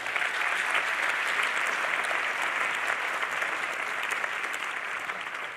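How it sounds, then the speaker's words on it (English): A conference audience applauds steadily at a closing ceremony, a dense wash of clapping that holds strong for several seconds and only starts to ease at the very end. "give yourselves a round of applause."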